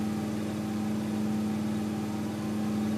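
A car engine idles steadily in LA Noire, a constant low hum with a strong droning tone, heard alone for a few seconds.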